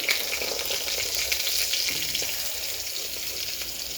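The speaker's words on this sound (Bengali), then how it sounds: "এখন তেল গরম হতে দিয়েছি, এখন বেগুনগুলো দিয়ে দেবো।" Eggplant pieces frying in hot oil for a Bengali begun bharta, a steady close hiss and crackle of sizzling that runs evenly throughout with no talking.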